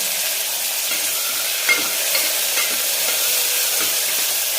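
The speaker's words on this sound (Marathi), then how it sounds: "आणि छान सोनेरी कलरवर आपल्याला फास्ट गॅसवर याला फ्राय करून घ्यायचं आहे कांद्याला" Onions and tomatoes frying over a high gas flame for a mutton curry, a dense continuous hissing sizzle with a few soft clicks of stirring, close and steady, no voices.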